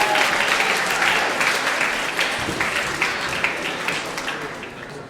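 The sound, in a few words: applause for James Thornhill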